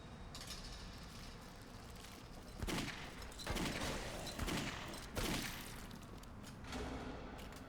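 Repeated bursts of gunfire in the shooter Clive Barker's Jericho, loud bursts spaced about a second apart over a constant rumbling game background, with no talk.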